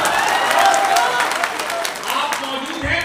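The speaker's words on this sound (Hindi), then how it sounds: "एक बार प्रशासन के लिए जोरदार ताली बजाते हैं।" Applause from an audience at a Hindi-Urdu poetry recital in Biswan, Sitapur, a steady dense wash of clapping lasting a few seconds with some crowd voices mixed in.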